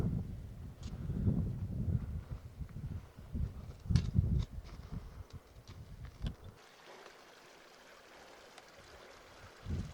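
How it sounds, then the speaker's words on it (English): Small mountain stream on a lake basin backpacking trip, a faint steady watery rush, with rustling and footstep-like noises in the first half before it settles into a quieter flow. "Some running water, it sounds like,"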